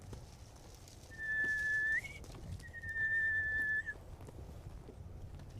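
A person whistles two sustained bird-call imitations, each a long steady tone sliding at the end, heard alone against a quiet background hum.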